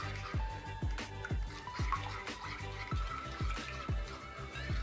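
Rum and cinnamon marinade stirred in a bowl, a steady rhythmic run of about ten soft liquid swishes and scraping strokes, close and fairly quiet, with no talk.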